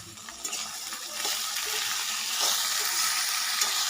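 Chopped goru chikkudu beans, mixed with salt and turmeric, frying in hot oil in a pan: a steady, close hiss and sizzle that builds slightly and runs on without pause, with faint stirring clicks.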